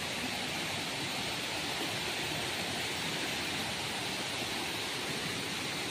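Steady dense hiss of rain falling at a waterfall on a wet, slippery trail, a continuous broadband wash of water with no voices, fairly soft and even throughout.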